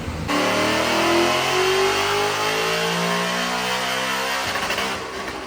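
Supercharged 2020 Ford Mustang strapped to a dyno, its engine held in one loud sustained pull with a steadily rising whine, then cutting off abruptly near the end.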